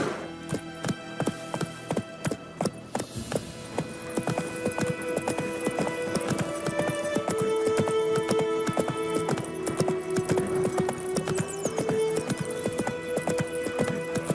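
Horse hooves gallop in a steady, rhythmic clip-clop through The Witcher 3, loud and close, with a sustained musical score playing underneath throughout.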